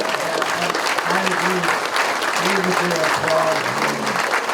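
An audience applauds at a Cliff Burton Day event in Castro Valley, California, dense steady clapping under a voice speaking over it.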